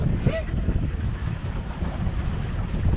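A motorized pedal boat moves on open water, its motor droning low beneath steady wind buffeting and lapping waves.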